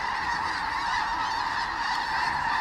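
A large flock of snow geese honks continuously and loudly over decoys during a hunt in northern Saskatchewan, a dense, overlapping chorus of calls with no pauses.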